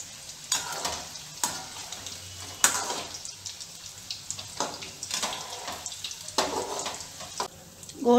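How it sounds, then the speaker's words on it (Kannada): Cabbage manchurian balls frying in oil over a low-medium flame, a steady busy sizzle with bursts of crackle and occasional stirring clatter, close and continuous with no talk. "ಲೋ ಮೀಡಿಯಂ ಫ್ಲೇಮಲ್ಲೇ ಫ್ರೈ ಮಾಡ್ಕೊಳ್ಳೋಣ."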